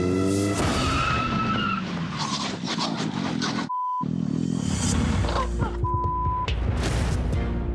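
A car skids and crashes into a motorcyclist from behind on a road, a loud, dense burst of screeching tires and impact noise with brief beeps, filling the whole stretch with no talking.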